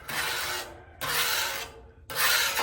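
A towel rubbed over a Blackstone griddle to spread seasoning oil, making three long, loud rasping strokes with brief pauses between them, close up and with no talking.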